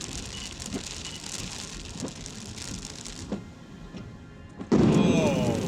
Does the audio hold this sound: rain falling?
yes